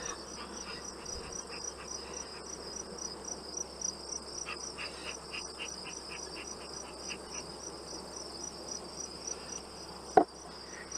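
Honey bees buzzing around an opened hive during a honey pull, a soft, continuous insect drone with scattered close buzzes and faint knocks, fairly quiet throughout.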